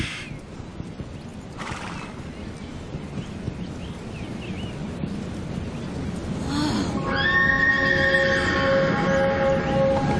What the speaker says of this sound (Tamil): அந்த குதிரைய.